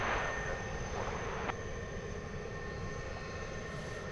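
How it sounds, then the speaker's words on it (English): An Airbus A300 airliner, about 25 years old, takes off at night at DFW Airport, its engines a steady, distant, broad roar with a thin whine, fairly faint and unbroken throughout. "So here goes this A300 off to Chicago Rockford International Airport"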